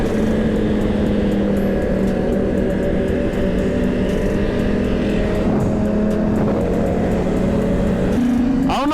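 A Suzuki GSX-R1000 sport bike ridden at night in Miami holds a loud, steady high-rpm engine drone near redline, with a sharp rise in pitch at the end of the run.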